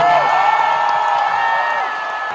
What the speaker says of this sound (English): I'm standing here getting all the applause